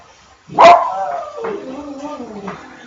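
A dog lets out one sharp, close bark that trails into a drawn-out whine and a few softer whimpers, heard indoors with no talking.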